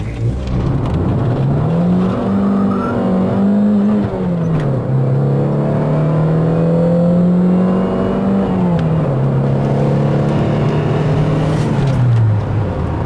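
A car accelerates hard and drives fast, its engine drone rising and holding through gear changes, loud and close for the whole stretch with no talk over it.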